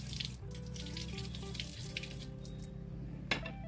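Soaked basmati rice being rinsed under a running kitchen tap, a steady close stream of water splashing into a sink with a brief louder splash near the end.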